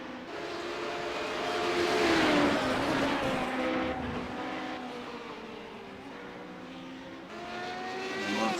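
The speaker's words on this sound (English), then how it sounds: "We've got a car behind us which is the leader coming up to lap us" A Radical race car at Road Atlanta heard from inside another car as the race leader closes in to lap it, engine notes droning and shifting in pitch, swelling louder midway and again near the end.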